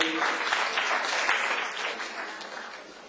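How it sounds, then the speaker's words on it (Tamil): Steady applause from an audience at a Tamil debate (pattimandram) event, a dense wash of clapping that holds for a few seconds and eases off slightly toward the end. "எங்களுடைய கரகோஷம் அவருக்கு."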